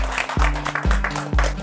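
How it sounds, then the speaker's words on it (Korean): Audience applause at the close of a lecture on real-estate tax for licensed brokers, a steady broadband clapping wash with a few low thumps cutting through, fairly close. "1시간이 넘어가지고 감사히 앞에 박수를"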